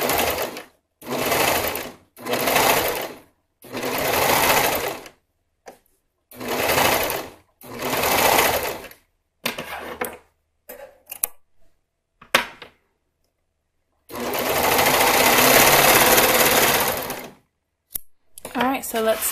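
A serger sews a swimsuit top, running in a series of loud, close bursts of rapid stitching separated by short pauses, with one longer run near the end and small handling clicks in between.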